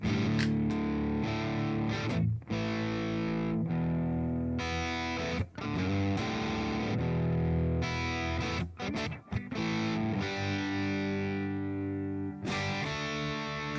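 An electric guitar runs through a Spark amp user tone with the booster switched off, playing crunchy distorted rhythm chords in steady strums, with brief choked gaps between phrases.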